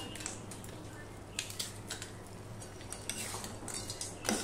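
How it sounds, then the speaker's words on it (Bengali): Fried lentil dumplings (bori) are broken up with a utensil in a pan while cooking red amaranth greens, giving soft, faint clinks and scrapes in irregular bursts. "সব বড়িগুলোকে আমি ভেঙে দিলাম।"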